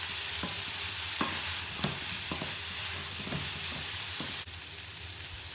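Ingredients for a Cajun spice chicken wrap sizzle steadily in a frying pan, with several sharp scrapes and taps of a utensil stirring them, close up and with no talking.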